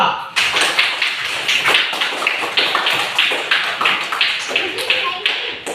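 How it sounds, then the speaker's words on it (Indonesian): Classroom applause for a student group fills the space with steady, dense clapping from many hands, close and loud, continuing throughout with rhythmic pulses. "Tepuk tangan aplaus buat kelompok 2."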